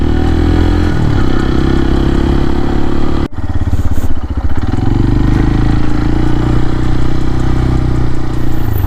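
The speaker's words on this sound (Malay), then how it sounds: "aku bawa sekarang ni motor Papio daripada CF Moto" A CFMoto Papio XO-1 motorcycle engine runs steadily and loudly, with a brief dip in the rumble partway through before it settles back into a constant drone.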